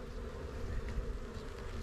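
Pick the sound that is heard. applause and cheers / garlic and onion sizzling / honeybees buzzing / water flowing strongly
honeybees buzzing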